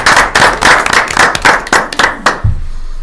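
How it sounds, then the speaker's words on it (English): A small group at a public health board meeting gives a brief round of applause, a quick burst of sharp hand claps that thins out and stops after about two and a half seconds. "I guess I'd like to give just a round of applause for joining the team."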